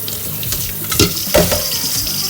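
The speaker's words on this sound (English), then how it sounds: "give it a good rinse and then get the shells off." Argentinian shrimp rinsed under a running kitchen tap, a steady close splash of water broken by a couple of louder gushes as the shrimp are moved under the stream.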